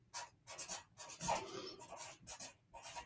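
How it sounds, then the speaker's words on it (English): A name written by hand on a paper heart for a bumblebee craft: short, quiet scratching strokes in quick bursts, close up with no talk. "Now, in one of his arms, you're going to write on the second heart your name."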